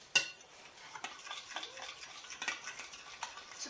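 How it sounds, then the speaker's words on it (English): Homemade copycat KFC coleslaw dressing stirred in a bowl with a spoon, giving a run of light clinks and soft scraping taps against the sides, close and fairly quiet, with no talk. "we're going to give that a good mix"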